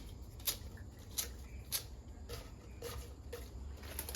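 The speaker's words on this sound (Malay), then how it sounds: "Ya, kita gunting-gunting." Kitchen scissors snip repeatedly at a steady rhythm, a series of short, faint cuts over low room noise while ingredients are prepared for onde-onde.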